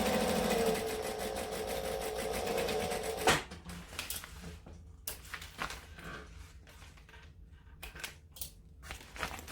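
A sewing machine stitches along the bottom edge of a fabric brush case, running steadily for a few seconds close by, then stopping, followed by soft scattered clicks and handling sounds.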